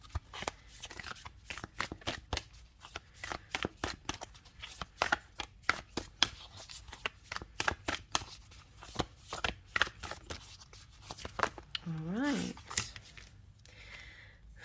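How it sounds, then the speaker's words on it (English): Tarot cards being shuffled live during a reading, a long run of quick crisp riffling snaps and soft slides close by, with someone speaking briefly near the end. "I just felt drawn to do a live shuffle today."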